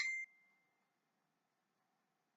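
A single phone notification ding rings out clearly, a short bright chime that fades quickly into near silence.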